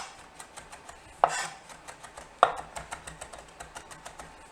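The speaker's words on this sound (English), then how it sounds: "The other little bit here I'm going to just mince up." Vegetables for a Mediterranean-style side are minced with a knife on a cutting board in a rapid, even series of close, light taps, with two louder knocks standing out early on.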